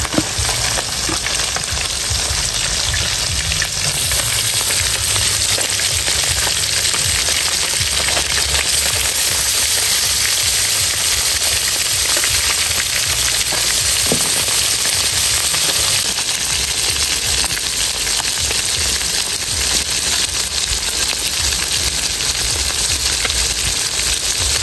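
Chicken frying in pork fat in a home kitchen, giving a steady, loud, dense sizzle and crackle that runs unbroken throughout with no talking.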